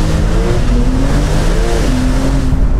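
A Brabus-tuned Porsche 911 Turbo S launches hard from a standstill. Its engine roars loud and close in a dense, continuous rush of acceleration.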